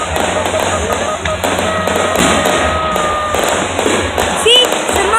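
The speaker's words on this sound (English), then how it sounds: "some of those fireworks are hitting the other ones" Fireworks go off in repeated sharp pops and crackles, some bursts striking others in the sky, with a continuous rumble beneath and people talking over the display.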